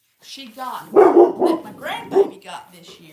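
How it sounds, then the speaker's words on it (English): A toy dollhouse's electronic dog barks in a string of sharp, yappy bursts, mixed with someone talking nearby. "that's the dog barking because Mama's coming home."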